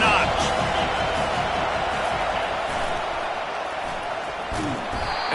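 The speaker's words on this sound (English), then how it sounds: "this crowd is turning it up a notch" Football stadium crowd at an NFL game swelling in a dense, continuous roar, loud and steady throughout with scattered whoops rising from the mass of fans.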